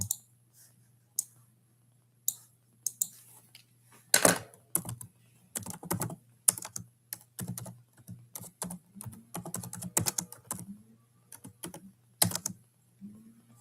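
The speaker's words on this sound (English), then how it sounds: "let me just type it in so I don't have to write this." Fingers typing on a computer keyboard while working through math problems, with bursts of quick clicking keystrokes and short pauses between them, close and crisp against a faint steady hum.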